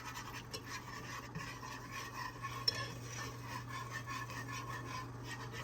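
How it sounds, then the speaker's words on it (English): A whisk scrapes and stirs a thickening sauce in an oversized pan on the stove, a soft continuous rubbing and clinking over a low hum, faint and alone. "I'm just going to whisk this like this and bring it to a very light boil"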